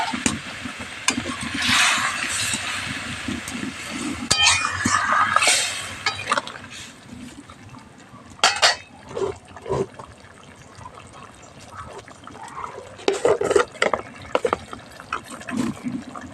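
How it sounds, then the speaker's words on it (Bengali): Boiled potatoes and eggplant tipped into a curry in a pan, producing wet sizzling and sloshing at first, then scattered clinks and scraping stirs, close by with no talk. "সেদ্ধ করে রাখা আলু বেগুনটা এর মধ্যে দিয়ে দেবো।"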